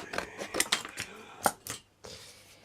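Scissors snip out a piece for a miniature crooked house craft model, a quick run of sharp close cuts and rustles, then a pause and a softer handling sound at the end.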